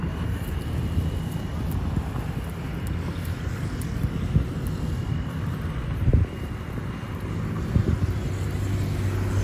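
Steady wind buffeting a microphone outdoors where kites are being flown, a continuous low rumble with occasional gusty thumps and a few distant faint sounds.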